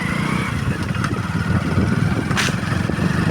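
A motorcycle engine runs steadily close by, a low, pulsing rumble that holds at an even level throughout with no talking.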